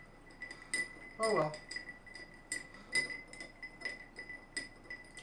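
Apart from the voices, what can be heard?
stirring cocktail with big ice, glass clinking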